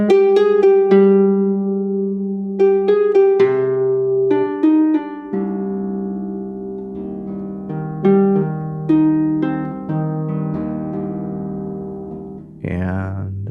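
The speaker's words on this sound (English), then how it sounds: "We listen to a little pizzicato with nails." Harp pizzicato plucked with fingernails, from a sampled harp library, plays bright, clear plucked notes in short phrases with ringing decays, alone and with no talk.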